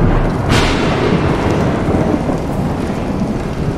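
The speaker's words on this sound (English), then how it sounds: "Clearly, I don't like thunderstorms." A thunderstorm in the video game Bendy and the Dark Revival: a loud thunderclap cracks and then rolls into a steady roar of heavy rain, with no voices.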